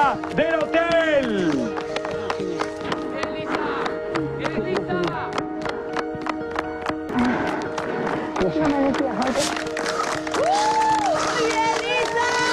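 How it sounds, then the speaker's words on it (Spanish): Studio audience clapping, cheering and whooping for Lisa Vera after her elimination on a celebrity reality show, the applause running under loud excited presenter talk and music throughout. "Toda la gente que está acá aplaudiendo a Lisa."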